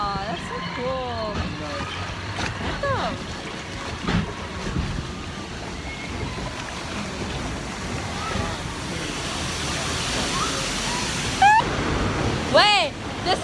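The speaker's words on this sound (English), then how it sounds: "So yeah, we're on the log ride." Water rushing and splashing around an amusement park log ride at Knott's: continuous wash and wind noise, with excited talking and squeals over it and a louder surge near the end.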